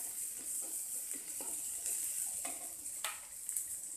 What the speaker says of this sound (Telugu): ఇప్పుడు సన్నగా తరుక్కున్న ఉల్లిపాయ ముక్కలు వేసి ఫ్రై చేయాలి.